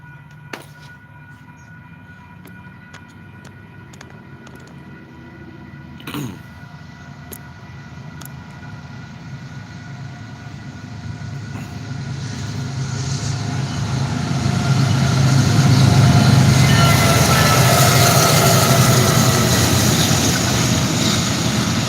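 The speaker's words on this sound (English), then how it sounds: "Here comes the train, guys." A train approaching along the rails, starting as a low distant rumble that steadily swells into a loud, broad roar with a sustained low drone as it draws near and passes.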